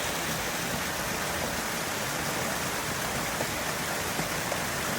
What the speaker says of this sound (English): about the sounds of a waterfall,